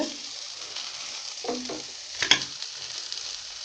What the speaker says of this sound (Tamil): இதை முதல்ல நல்லா எண்ணெயில் கரட்டி விடுங்க